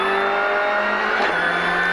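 Onboard sound of Lukyanuk's rally car at full speed on a stage of the 2017 ERC Rally Islas Canarias, a loud, steady engine roar with a gear change partway through and continuous road noise.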